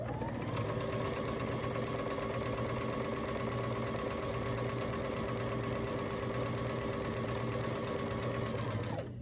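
Domestic sewing machine stitching a 1/4 inch seam along the long side of quilt pieces for a churn dash block, a close, steady motorized whir running continuously and evenly for the whole stretch, with no talking.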